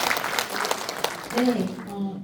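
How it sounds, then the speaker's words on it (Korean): An audience claps at a group film screening and talk event, a moderate wash of applause heard beneath a voice speaking over it. "힘내시라고 박수 한번 부탁드리겠습니다"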